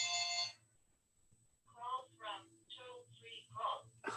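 A telephone rings once in a short burst near the start of a quiet indoor interview, followed by a pause and then a person speaking.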